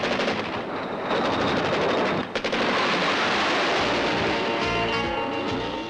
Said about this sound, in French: Avec le canon de 20 mm en surpointage, le chef de char intervient contre les attaques des avions et hélicoptères.